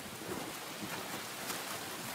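Steady pouring rain at night ahead of the Manchurian offensive, a dense unbroken hiss of heavy downpour on sodden ground, continuous and fairly loud with no voices.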